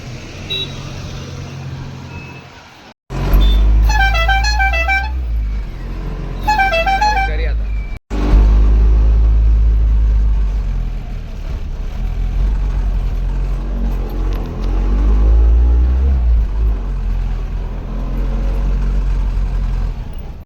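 Vehicles queued in a line of road traffic on the way to a Konkan village for the Ganpati festival, with two short bursts of patterned horn beeps over a steady engine rumble and people talking nearby.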